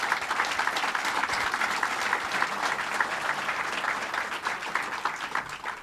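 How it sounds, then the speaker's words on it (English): An audience at a Governor Cuomo announcement event applauds Steve Bellone with sustained, dense clapping that holds at an even level from start to finish, without any talk over it. "Let's give him a round of applause."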